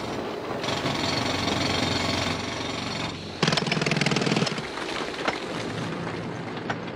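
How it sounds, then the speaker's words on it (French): Rapid jackhammer hammering in a coal mine rattles on continuously, with a louder, harsher burst of pounding partway through and scattered clanks near the end. "J'entends le bruit des marteaux-piqueurs."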